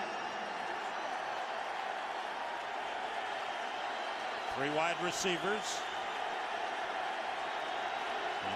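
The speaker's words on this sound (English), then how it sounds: "And the crowd on its feet again, cheering on the Colts defense" A stadium crowd at an NFL game between the 49ers and the Colts in Indianapolis keeps up a steady, dense roar while fans cheer the Colts defense. A commentator talks over it the whole time.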